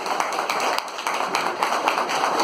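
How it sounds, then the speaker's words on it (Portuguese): A room audience claps steadily in a continuous wash of applause, dense and fairly loud throughout with no voices over it. "deixa eu pedir para vocês uma salva de palmas para vocês"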